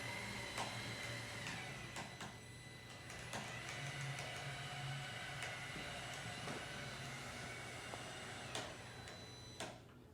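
A Maslow CNC machine whirs and hums at low level through belt calibration, with faint motor drone, a few sharp clicks and ticks, and soft shifting tones as it moves around.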